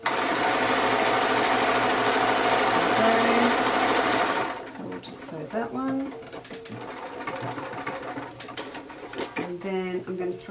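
A sewing machine runs steadily as it stitches a fabric strip, a loud continuous mechanical whir for about four seconds that then stops, leaving quieter handling sounds and a few soft clicks.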